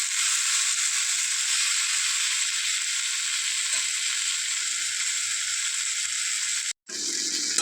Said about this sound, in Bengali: এরপর এগুলোকে হালকা আঁচে একটু হালকা করে ভেজে নিতে হবে।